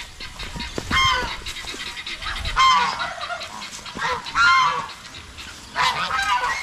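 Geese give loud, nasal honks in several separate bursts close by, with short quiet gaps between the calls and no speech.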